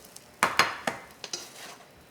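A metal spatula scrapes and clanks against a pan while lifting grilled pepperjack cheese sandwiches out onto a plate: a few sharp, close clinks and scrapes spaced unevenly over two seconds.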